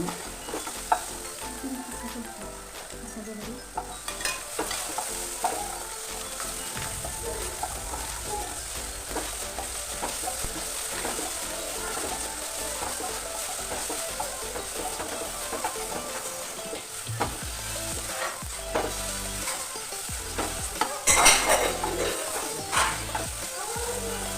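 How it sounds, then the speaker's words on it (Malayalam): Fruit frying in a pan and being stirred for a vermicelli custard pudding, a constant sizzle with intermittent scraping and stirring clatter, close and moderately loud throughout. "പഴം നമുക്ക് മാറ്റി കൊടുക്കുകയാണ്"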